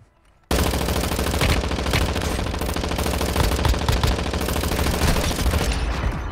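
Sustained automatic gunfire in Warzone Mobile erupts after a brief quiet moment, a dense, loud, continuous rattle of rapid shots that carries on without pause to the end.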